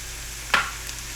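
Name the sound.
yellow onions and green onions sautéing in a pan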